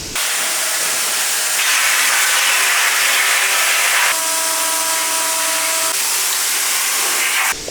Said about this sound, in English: So he's currently on the brake press.